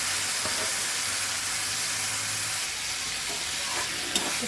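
Cut tomatoes frying in a pan for mutton curry, a loud, steady hissing sizzle that fills the whole stretch, with an occasional faint clink of a spoon, no talking.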